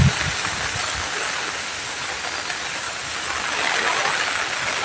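Heavy rain pours down on a cattle farm as a dense, steady, even hiss that fills the whole stretch with no pauses and no voices.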